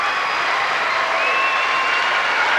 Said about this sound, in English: The crowd's gone crazy.